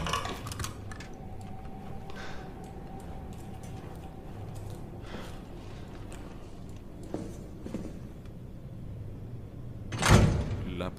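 A door slams shut behind the player in Resident Evil 3, a sharp heavy bang near the end over a low game ambience with scattered faint clicks.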